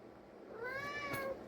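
A single drawn-out meow from a cat in heat, rising then falling, close and clear against a quiet room.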